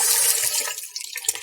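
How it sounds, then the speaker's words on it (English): Hot water rushing into a nearly full sink, a loud close splashing wash that tapers off and breaks into softer trickles and bubbling. "I've filled up the sink almost all the way with really hot water."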